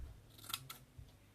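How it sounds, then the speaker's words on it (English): Scissors snip a paper banner in a few quick, quiet cuts, two close together and then a softer one, in a calm room. "get my trusty scissors out on the go"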